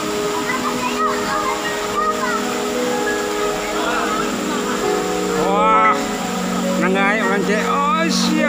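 Steady broadband rush of the Air Terjun 7 Bidadari waterfall near Rajo beach, a continuous roar running throughout, with several voices talking loudly over it.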